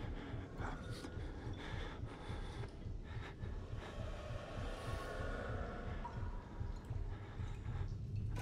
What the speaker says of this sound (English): I feel like the heartbeat sound is getting stronger